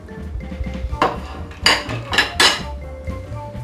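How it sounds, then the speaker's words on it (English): Ten pounds of twice baked potato filling with butter is stirred hard in an overfull five-pound bowl, giving close clinks and scraping bursts, with two louder strokes in the middle. "we have 10 pounds of potato in a 5-pound bowl, so it's not the easiest thing to stir and mix"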